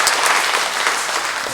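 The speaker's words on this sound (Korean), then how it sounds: "우리 이분들로 환영의 박수를 보내주십시오." Warm applause from a church congregation welcoming visiting tourists, a brief burst of many people clapping together at a steady, fairly loud level with no voices over it.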